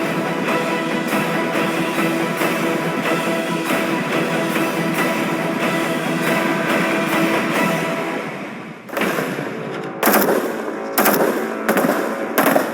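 Light machine guns firing 5.56 mm rounds just overhead of a trench, a long sustained rattle of rapid loud bursts followed by several separate sharp volleys with short gaps between them.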